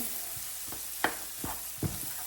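Steak and broccoli sautéing in butter with Scotch bonnet pepper in a pan, a steady soft sizzle broken by several brief louder bursts and stirring scrapes, close and moderately quiet.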